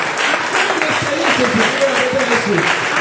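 A church congregation at a French-language service claps and cheers together, loud and close, with voices mixed into the sustained applause throughout.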